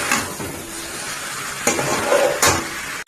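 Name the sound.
chicken being sautéed (kosha) in a pan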